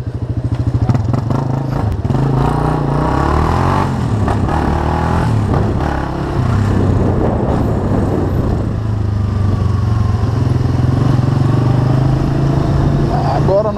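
A chopper motorcycle on a ride around João Monlevade, Minas Gerais, gives a loud, continuous low engine rumble with wind buffeting, heard up close from the bike throughout.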